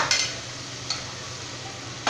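Tomatoes with salt sauté in a pan for biryani: a continuous close sizzle with a few scraping stir strokes at the start and end, and no talk.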